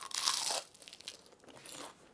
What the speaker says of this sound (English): Let's do a little crunch test,